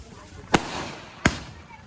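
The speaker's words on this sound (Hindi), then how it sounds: "पूरे गांव वाले यहाँ पे आप देख सकते हैं कि पटाखे छोड़ रहे हैं" Villagers set off firecrackers at a festival procession, two sharp loud bangs about three quarters of a second apart over a noisy outdoor crowd background.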